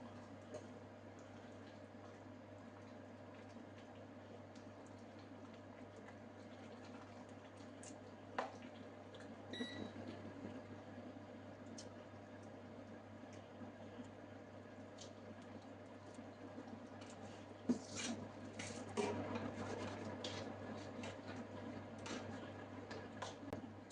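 Hot fried tempering is poured into a simmering beef trotter curry, giving a soft sizzle and bubbling liquid noise. It stays faint and mostly steady, with a few brief louder spatters.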